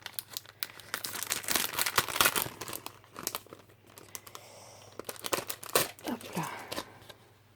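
A package wrapped in plastic is torn open and crumpled by hand, close crinkling and tearing in uneven bursts, with a brief spoken word partway through.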